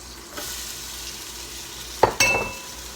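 Carrots and onions tipped into a pot for beef stew, a low steady sizzle with a couple of sharp clatters and a brief louder hiss near the end as the vegetables hit the pan; no talking.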